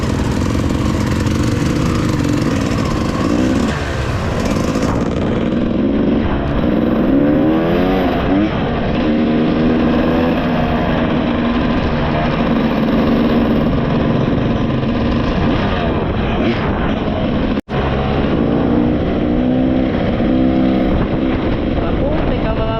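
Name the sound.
motorcycles riding on a dirt trail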